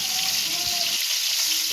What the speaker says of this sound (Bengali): পটলগুলো একটু টাইম লাগিয়ে হালকা আঁচে ভেজে নিতে হবে